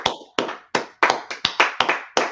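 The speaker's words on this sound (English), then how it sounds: "Clap it up for Sister Crystal, man." Claps from an audience at a gathering for Sister Crystal, about ten sharp hand claps at a steady, slightly uneven pace, close and fairly loud with no talk over them.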